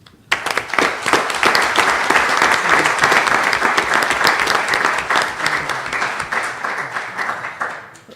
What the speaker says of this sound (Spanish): Pido un aplauso, por favor, para el presidente